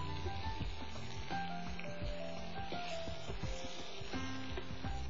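Chicken legs fry with chili powder and green peppercorns in hot oil, a steady close sizzle with scattered crackles and pops throughout, no voices.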